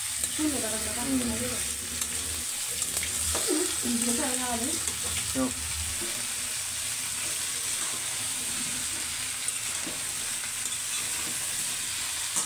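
Vegetable stalks sizzle steadily in a pan as they are stirred, a constant frying hiss with a few scrapes, while a voice briefly talks over it early on.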